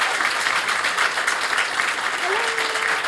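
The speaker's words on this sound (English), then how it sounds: "Round of applause." Audience at a film festival talk in Rotterdam applauding, a steady, dense burst of clapping close and loud for several seconds with faint voices underneath.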